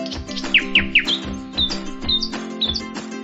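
A bird chirps in a quick series of bright, sharp tweets, several rising notes in a row followed by more spaced calls, close and clear over a faint tonal background.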